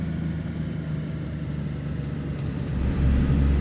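A car engine in DayZ on the Livonia map rumbles steadily at low pitch, then swells louder near the end as it revs up, heard alone without talk.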